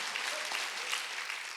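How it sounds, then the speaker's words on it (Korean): Congregation clapping during a Sunday church worship service, a dense, even wash of many hands applauding throughout at a steady moderate level with no speech over it. "박수치라"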